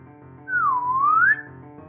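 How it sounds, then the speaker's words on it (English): A single slide whistle glides down and then swoops back up as a comic transition effect, loud and clear for about a second over a quiet, steady background. "Slide whistle."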